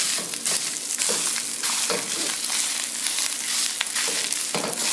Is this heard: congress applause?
no